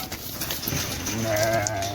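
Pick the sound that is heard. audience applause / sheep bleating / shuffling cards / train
sheep bleating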